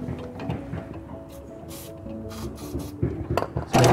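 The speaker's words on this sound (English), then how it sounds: "We will quickly lubricate all the stabilizer legs." Caravan stabilizer legs and their mechanisms being sprayed with lubricant during a service, giving soft rubbing and hissing spray bursts with light mechanical clicks, closer and louder toward the end.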